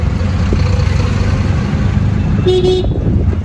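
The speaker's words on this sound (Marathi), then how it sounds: "आता बसलो आम्ही रिक्षामध्ये चाललो आहे दुकानाजवळ" An auto rickshaw engine rumbles steadily while riding through town traffic, with a short, sharp horn toot from nearby about two-thirds of the way through.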